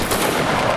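A musket volley in Napoleonic Wars gameplay, many muzzle-loading muskets firing at once in a loud, dense crackling roar lasting under a second, with no speech.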